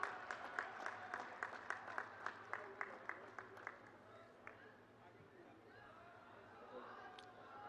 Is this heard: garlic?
no